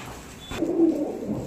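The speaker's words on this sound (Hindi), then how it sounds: "ये गोल्डन कबूतर है ये" A golden Rampuri high-flyer pigeon gives a single soft, close coo lasting under a second, heard alone over faint background hiss.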